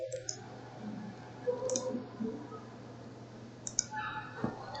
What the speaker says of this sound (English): If you want to add many forms, you can just right click on this